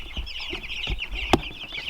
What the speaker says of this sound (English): let me show you these meat chickens real quick